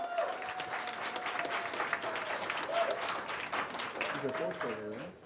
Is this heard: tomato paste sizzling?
no